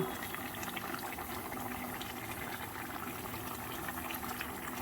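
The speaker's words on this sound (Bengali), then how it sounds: "মাছগুলো একটু ভালো করে ঝোলের মধ্যে ডুবিয়ে নিয়ে সেদ্ধ করে নেব।" Rohu fish pieces simmering in curry gravy, a steady bubbling boil that stays even and moderately loud from start to finish.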